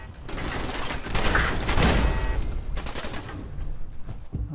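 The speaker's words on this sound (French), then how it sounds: "On me tire dessus" Gunfire aimed at the player in Fallout 4, a dense burst of shots and impacts lasting several seconds, loud and continuous with a busy game soundscape behind it.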